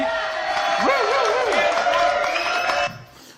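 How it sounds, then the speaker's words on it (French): A live audience cheers, whoops and whistles for a French rockabilly band, a dense crowd roar that cuts off abruptly near the end. "Applaudissements, s'il vous plaît, merci."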